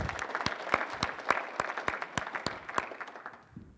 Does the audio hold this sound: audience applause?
yes